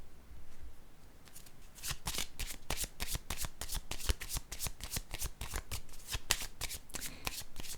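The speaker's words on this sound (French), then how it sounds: "Je vais déposer une carte ici encore." Playing cards being handled and laid down produce a rapid train of crisp flicks and snaps, dozens in quick rhythm, close-up and fairly quiet, with a brief soft rustle before the run begins.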